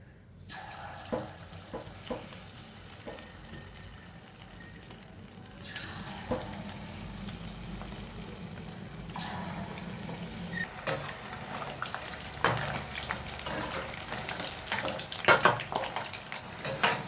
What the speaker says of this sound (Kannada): ಅದು ಆಯಿಲು ಹೀಟಾಗಿದೆ ನೋಡಿ. ಇವಾಗ ಹಾಗಲಕಾಯಿ ಹಾಕೋಣ ಅದಕ್ಕೆ.